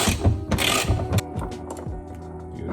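Ratcheting clicks from a wrench loosening a 10mm bolt on a plastic Nissan 370z rear spoiler, a quick burst of close mechanical clatter followed by a few fainter metallic ticks.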